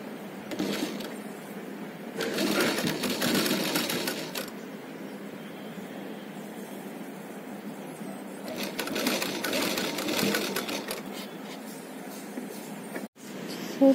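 A sewing machine stitches the round-neck lining of a toddler's umbrella frock in three separate runs of rapid buzzing, with quiet pauses between them.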